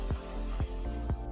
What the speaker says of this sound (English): I'm just going to spray off the brakes with some brake cleaner